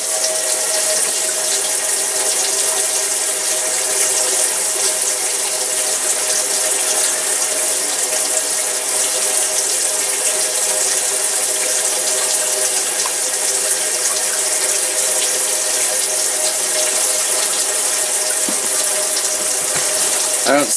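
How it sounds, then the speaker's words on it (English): Water runs steadily from a kitchen faucet during a sink drain repair, a constant close hiss with faint mechanical tones underneath, ending in a small clunk. "here comes the water"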